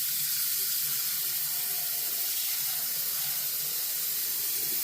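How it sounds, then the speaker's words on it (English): Cold water runs into a hot candy apple pot, a steady loud hiss and rush of water and steam that continues unbroken throughout. "you want to make sure you add water, cold water, so it can cool off"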